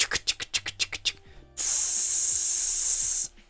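A voice imitates a spray can: a run of about eight quick sharp hisses, then one long loud sustained hiss lasting nearly two seconds, close up and alone.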